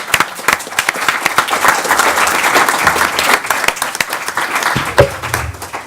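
A seminar audience applauds the speakers with brisk, close clapping, a full round of many hands that thins and tapers off toward the end.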